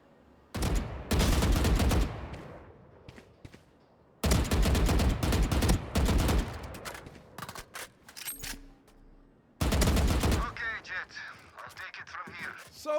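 Gunfire from Valorant bots practice, a Vandal rifle hipfiring full magazines: three loud sustained bursts of rapid automatic shots, each a couple of seconds long, separated by quieter gaps with reload clicks and game sounds.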